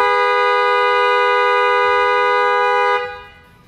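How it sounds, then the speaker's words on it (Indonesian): A stuck car horn on a Honda Civic Estilo blares as one loud, steady, continuous tone held for about three seconds before cutting off abruptly, with no talk over it. "klaksonnya suka nyangkut cuy"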